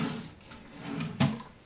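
A hotel room drawer sliding and knocking shut, a soft scrape followed by a brief wooden thud, close by in a quiet room.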